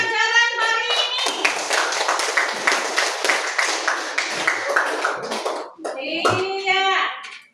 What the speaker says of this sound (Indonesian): Tepuk tangan untuk pelajaran hari ini